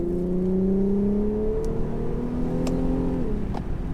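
A 3.5-litre Nissan V6 in an Infiniti Q50S pulls hard under acceleration, a loud steady engine note rising in pitch through the gears, heard from inside the car with a window slightly open.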